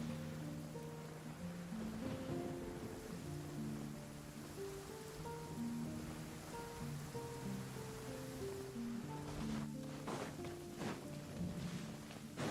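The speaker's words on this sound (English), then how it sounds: "It's really raining." Heavy rain in Genshin Impact pours down as a constant broad hiss beneath gentle melodic game music, with a few sharper patters and splashes toward the end; no one speaks.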